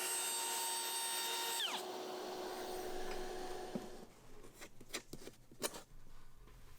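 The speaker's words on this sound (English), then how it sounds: "I've clamped 2 of the valances together to give me a more stable platform for the router" A router cuts notches through two wooden cabinet valances clamped together, a steady high whine for the first seconds that winds down, followed by scattered knocks and handling sounds.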